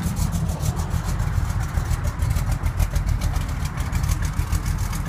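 A numbers-matching 1972 Chevrolet Nova muscle car engine idles with a steady, low rumble, even and continuous throughout with no talk over it.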